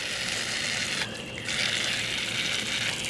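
Water gushes steadily from a hose aboard a Glastron Carlson CVX23 boat during a test run, a close, hissing flow that briefly softens for a moment before surging back.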